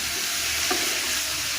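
Grated carrot sizzling in a pan with whole cardamom and cinnamon, a steady close hiss with one soft stir knock.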